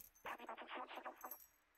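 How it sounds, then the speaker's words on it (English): A ring of keys jingles briefly in the cat adventure game Stray, a clear close burst of metallic rattling lasting about a second before fading. "They left the keys in the door."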